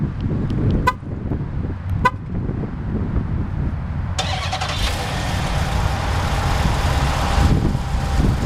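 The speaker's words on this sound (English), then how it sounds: "let's go ahead and fire up the engine, see how she runs" A 2012 Chrysler 300C SRT8 answers its factory remote start with two short horn toots, then the engine cranks and catches about halfway through and settles into a steady, rumbling idle.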